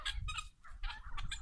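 Hens cluck softly in short bursts close by as they pull worms from the ground, with no talk over them.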